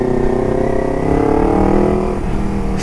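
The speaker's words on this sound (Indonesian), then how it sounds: "Itu tes launchnya. Itu launch control manual guys." A car engine revs hard in a steady, sustained roar during a manual launch control test, held loud and close throughout with rising harmonics and no speech.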